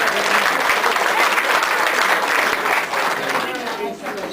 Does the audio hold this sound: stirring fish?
no